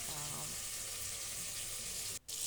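Onions sizzle and crackle steadily in a hot pan, close by, with a brief dropout near the end.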